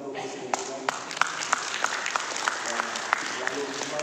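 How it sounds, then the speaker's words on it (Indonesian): Crowd applause for a party president at a labour party political event, sustained clapping from many hands with sharper individual claps punctuating it, while a voice speaks over the cheering audience. "Tepuk tangan untuk Presiden Iqbal."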